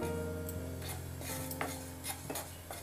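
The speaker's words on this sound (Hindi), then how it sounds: "ये देखिए, ये इसमें से चटकने की आवाज़ आने लगी है।" Sesame seeds dry roasting in a pan on a gas stove, giving light scattered crackles and pops with soft stirring scrapes, close and fairly quiet, with no talk.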